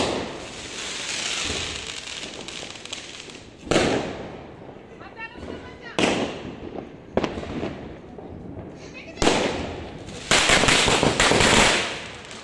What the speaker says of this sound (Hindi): पटाखों का कोई भरोसा नहीं है।